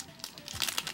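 Card sleeves crinkling and snapping as a deck of sleeved cards is shuffled violently, a quick run of close, sharp plastic rustles building in intensity over about a second.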